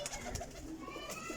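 Pigeons kept for sale coo softly in a loft, a few low, faint, rounded calls over quiet background noise.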